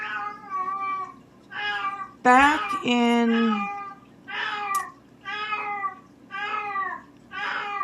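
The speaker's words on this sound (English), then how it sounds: "Oh my gosh, my kitty." A house cat meows repeatedly in a steady series of loud, close, drawn-out cries, with a brief spoken voice joining in partway through.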